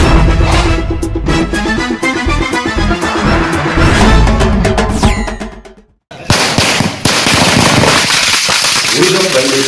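Dense firecrackers burst nonstop during a political celebration in KGF marking the return of the Swarna train, with rapid crackling pops close and loud, briefly dropping out before resuming.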